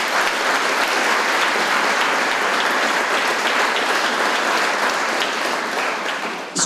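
Steady, dense applause from an audience honouring a group of young majorettes, the kadetky aged 8 to 11, at a local awards event, sustained loud throughout and tapering slightly at the end.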